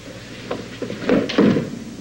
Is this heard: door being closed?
yes